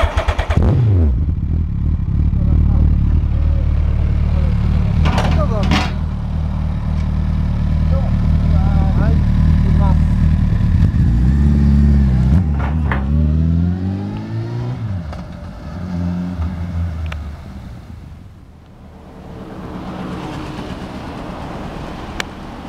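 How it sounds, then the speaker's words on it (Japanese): A Suzuki Hayabusa motorcycle engine idling and then revving in several rising and falling pulls, loud and close, with people talking around it. "エンジン音聞かせてもらえますか？"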